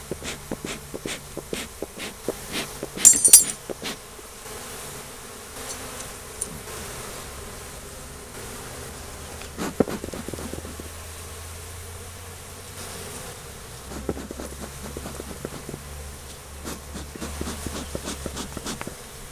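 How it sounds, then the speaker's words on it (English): Honeybees buzz softly and continuously inside an open hive during an inspection, with occasional louder passes and faint rustling and handling noises. "It's got to be 200 bees in here."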